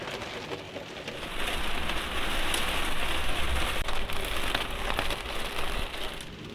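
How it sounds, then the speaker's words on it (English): Heavy rain pelts steadily onto a small sailing boat during a Texas coastal cruise, a loud, dense hiss of drops drumming without letup, with occasional sharper spatters and low rumble beneath. "now it's pelting down"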